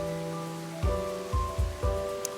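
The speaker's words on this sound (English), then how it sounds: "it's pouring with rain" Heavy rain pours down outdoors in Siem Reap, a steady loud wash with a few heavier thudding bursts and a low tonal hum beneath, no voices.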